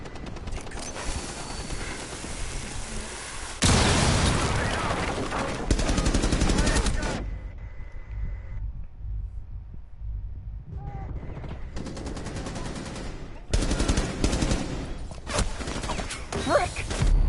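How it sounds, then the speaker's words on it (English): Gunfire and explosive bursts from a cluster charge in Rainbow Six Siege, loud dense crackling volleys with a sharp blast around the middle, then a brief quieter lull before more heavy firing, with voices talking over it. "Detonating cluster charge"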